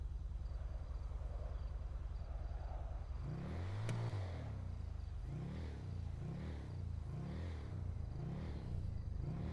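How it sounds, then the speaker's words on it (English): A Citroën Méhari engine in Grand Theft Auto Online idles with a steady low hum and rhythmic pulsing throb. It rises slightly partway through and keeps a constant drone under a faint high whine. "I'm just gonna let you guys take a listen while it's idle."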